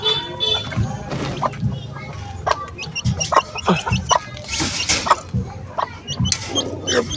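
Chickens and chicks at feeding time cluck and cheep busily near and around, with scattered rooster-like calls, some clattering, and occasional human talk mixed in.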